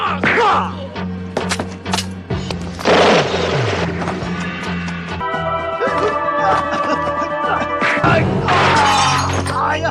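A film action scene with a gunfire exchange in a smoke-filled room: sharp shots, shattering and crashing impacts over a dense soundtrack, with a voice narrating throughout.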